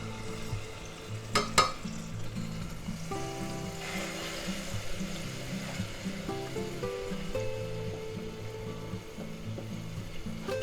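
Tablespoon of garlic frying in hot oil in a pan, a steady soft sizzle with occasional stirring scrapes, close and moderately loud, no talking.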